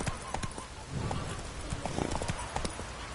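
Roach the horse trots in The Witcher 3, with brisk hoof clip-clops sounding close and fairly quiet over a rushing background, the rhythm steady throughout.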